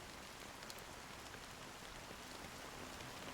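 Steady rain falls in the video game Honkai Star Rail, a dense, even hiss of drops on surfaces that carries on without a break and without voices.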